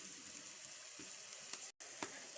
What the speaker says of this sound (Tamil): ரொம்ப வதக்க வேணாம், ஒரு கம்மியாக வந்து லீக்ஸ் எல்லாம் போட்டு கொஞ்சமாக வதக்கிடுங்க.